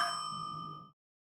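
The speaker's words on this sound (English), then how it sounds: "We also made the sound of the elevator dinging by ourselves" A struck pot, sped up and pitched higher into a video game elevator ding, rings out as a single bright metallic tone that decays smoothly and cuts off to silence.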